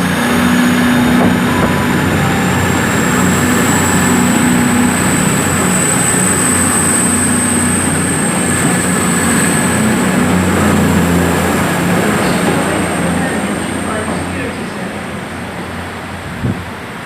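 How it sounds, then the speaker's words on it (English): A CrossCountry train departing Exeter St Davids for Penzance produces a loud, sustained rumble with a high steady whine, close and constant, easing off slightly over the final seconds. "departing out now is the cross country service 2:21:1:30 to Penzance"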